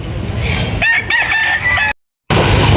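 Rooster crowing loudly and close, one drawn-out call with a wavering pitch, followed by a short cut to silence and then renewed outdoor noise.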